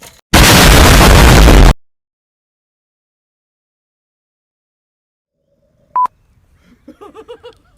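A single loud, sharp airsoft grenade blast at an outdoor airsoft gladiator games event, with a long roaring broadband burst earlier, then a brief pop followed by faint voices.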